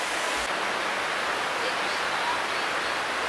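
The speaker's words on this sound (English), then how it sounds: "Yes, there is a creek running through my haunt." A creek runs through an outdoor haunt attraction, its water giving a steady, even rushing hiss that holds unchanged throughout, with no voices over it.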